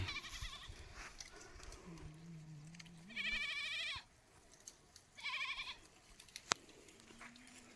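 A goat bleats loudly twice in wavering cries, separated by quieter stretches with a low hum and a sharp click.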